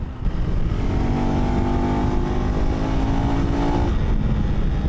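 Lightweight adventure motorcycle with about 40 horsepower accelerating hard, a loud close engine note climbing in pitch through a gear under heavy wind noise.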